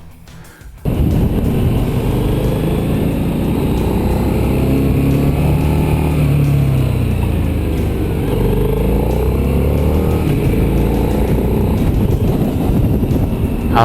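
Harley-Davidson Night Rod Special motorcycle engine, a loud, steady close-up roar that rises and falls as the bike revs and pulls away, with wind rushing past the rider throughout.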